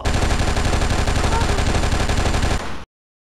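Rapid automatic gunfire from the video game Oni, a loud continuous burst of tightly spaced shots lasting a few seconds before cutting off abruptly into silence.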